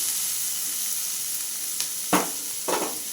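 Vegetables for sabudana pulao frying in a pan, a constant dense sizzle with a few scraping strokes of a spatula toward the end.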